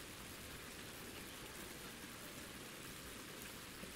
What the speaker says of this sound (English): I just wish this rain though would stop because it's kind of loud